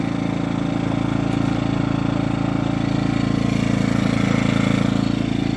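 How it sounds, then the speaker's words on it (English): A Predator 2000 generator runs under about 200 watts of load, giving a steady, even mechanical drone that holds the same pitch and loudness from start to finish, heard alone. "I'm probably about 50 feet away from the generator while it's running like this"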